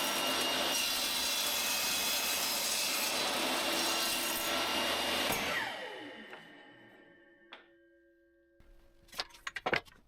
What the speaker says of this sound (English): Before I assemble the frame pieces, I cut them at a 45-degree angle.